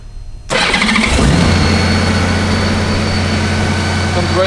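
A 2014 Honda Goldwing motorcycle engine cranks and fires after a brief quiet moment, then settles into a steady, smooth, mellow idle close by.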